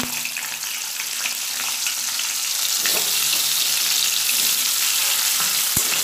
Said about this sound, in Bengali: আলুগুলোকে লাল করে ভেজে নেবো